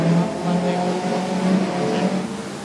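Speedway race cars start a junior feature race, several engines roaring together in a loud, steady drone with no pause.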